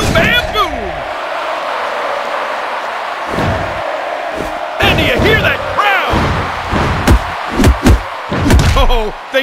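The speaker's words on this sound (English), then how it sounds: "And do you hear that crowd?" WWE Mayhem wrestling match with a crowd roaring beneath repeated slams and thuds of in-ring impacts, loud and busy, with game effects and a commentator talking over it.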